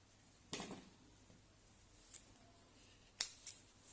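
A few quick, crisp snips of scissors cutting yarn while making a crocheted amigurumi chick keychain, spaced apart against a quiet room with no talking.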